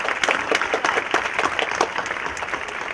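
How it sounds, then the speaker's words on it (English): A crowd at a cherry blossom queen coronation applauds steadily, many hands clapping in a dense, even patter that continues throughout without talking. "A big round of applause to our distinguished judging panel."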